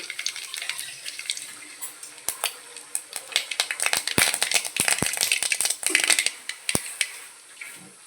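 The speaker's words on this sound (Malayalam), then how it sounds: "കടുക് പൊട്ടു" Rapid, irregular crackling pops from mustard seeds in hot oil, some sharp and loud, over a steady bright hiss, with no voices.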